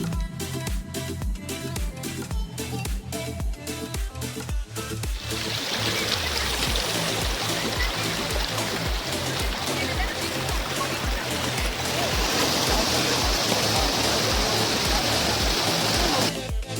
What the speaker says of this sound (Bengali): এত স্বচ্ছ জল বয়ে আসছে কোথা থেকে দেখতে না পেলেও এখানে অনেকে স্নান করছে